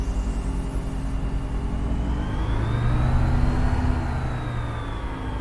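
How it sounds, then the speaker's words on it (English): Steady aircraft engine drone from a plane in Microsoft Flight Simulator 2024, a continuous mid-low hum with a faint rising whine, swelling slightly midway and holding at a constant level throughout. "Can you guys hear the engine and stuff?"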